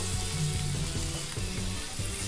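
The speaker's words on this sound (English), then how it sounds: "So fry the Karela nicely" Karela (bitter gourd) sizzles steadily in hot masala for a sweet and spicy dish with jaggery, a dense continuous frying hiss with faint stirring bumps and no talk.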